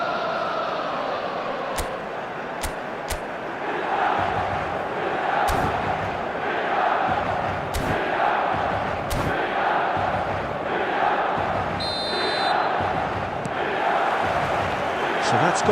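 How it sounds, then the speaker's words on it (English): Stadium crowd at a football match in a video game, a broad continuous roar of massed voices with rising chant-like swells and scattered sharp knocks over the top. "This crowd doesn't do ordinary, and we should be in for something very special."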